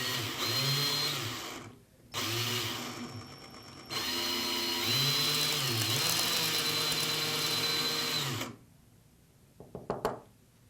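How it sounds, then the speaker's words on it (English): A power tool whines steadily while reaming out the epoxied reel seat of a fishing rod cork ring handle, running in long bursts with short stops, then winding down to a few faint knocks. "I'm going to go ahead and ream out the reel seat."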